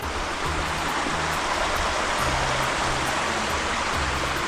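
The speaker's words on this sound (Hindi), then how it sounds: "दिस इज द फर्स्ट नाला जो पड़ता है।" A mountain stream runs beside the pilgrimage trail up Shikharji, its water rushing in a steady, close, unbroken wash that holds the same level throughout with no voices.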